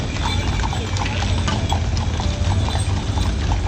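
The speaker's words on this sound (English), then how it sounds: "There's 2 horses pulling the weight of a cart and 10 human bodies." Two horses pull a heavy cart carrying ten people on a sunny Barcelona street, their hooves clip-clopping in a steady, close rhythm alongside rattling cart mechanics, with no one talking.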